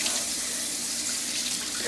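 Steady water runs from a bathroom tap during mouth rinsing, a continuous close hiss of flow filling a sink with no break.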